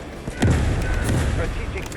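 An explosion in the video game Delta Force booms as a loud, broad rumbling blast, with no talk heard.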